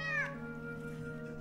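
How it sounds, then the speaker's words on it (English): A cat's meow jump scare in the video game Telling Lies: one loud, drawn-out meow at the start, falling in pitch and then trailing off over steady, droning background music. "Fucking cat!"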